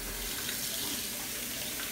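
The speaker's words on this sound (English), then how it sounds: "So just let the water run," Cool water runs steadily from a faucet over crystals sitting in a bowl underneath, a continuous broadband splashing hiss at even loudness with no speech throughout.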